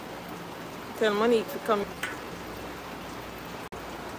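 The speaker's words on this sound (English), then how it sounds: "Long overdue rain. It's raining." Steady rain falls in Kingston as a constant hiss throughout, with a brief voice calling out over it.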